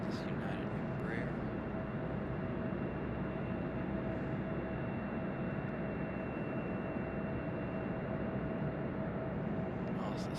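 An American Airlines plane taxis past a United Embraer at Raleigh-Durham International Airport, giving a steady, loud broadband jet roar that holds evenly for about ten seconds.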